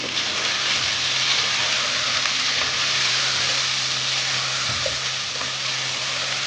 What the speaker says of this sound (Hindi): अब इनको इस मसाले के साथ भून लें।